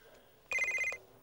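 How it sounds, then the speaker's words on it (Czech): Cartoon telephone ringing, a bright electronic trill with steady stacked tones that starts abruptly and runs for about half a second before cutting off, loud against a quiet background. "Zvoní telefon."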